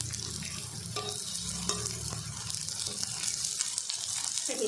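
Onions and meal maker soya chunks sautéed in a pan for a gravy, giving a steady, close sizzle with light stirring scrapes throughout and no talking.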